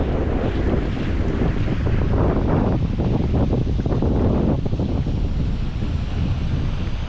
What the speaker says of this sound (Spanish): Ahora sí que noto la brisa, en este momento que me he asomado aquí.